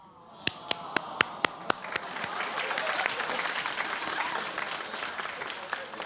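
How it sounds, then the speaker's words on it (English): A studio audience at a daytime talk show breaks into applause after a few sharp, separate claps up front, swelling into a dense, steady wash of clapping that holds for several seconds. "Don't clap because I clap."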